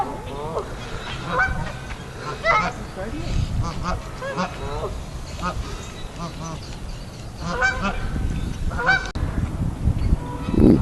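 Geese honking at a bird sanctuary, with ducks present: repeated loud nasal honks in irregular bursts throughout, fairly close, with someone talking over and between the calls.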